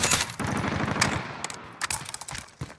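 A Grau 5.56 assault rifle fires in a video game in loud, rapid automatic bursts, with short pauses between volleys and sharp cracks near the end.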